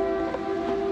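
A steady rumble with a sustained low hum runs throughout, like a train rolling past nearby at constant volume, near a lake spillway at a campground in Louisiana.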